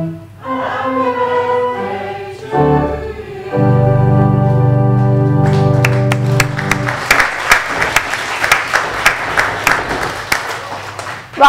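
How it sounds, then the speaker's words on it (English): Sung birthday song at a morning worship service gives way to audience applause, a choir's sustained singing followed by several seconds of lively clapping from the congregation. "the rest of us can clap at the end"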